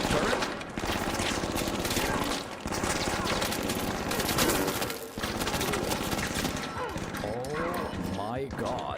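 Rapid turret gunfire in a video game rattles out in dense, overlapping bursts with sharp impacts, loud and nearly continuous for the whole stretch.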